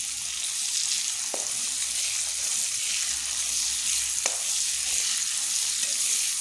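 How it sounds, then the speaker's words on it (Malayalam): Ginger garlic paste and green chillies sautéing in the same pan used to fry chicken, a steady close sizzle with a couple of sharp utensil taps against the pan. "ഇനി ചിക്കൻ ഫ്രൈ ചെയ്ത അതേ പാത്രത്തിൽ തന്നെ ജിഞ്ചർ ഗാർലിക് പേസ്റ്റ്, പച്ചമുളക് ഇവ ചേർത്ത് നന്നായി വഴറ്റുക"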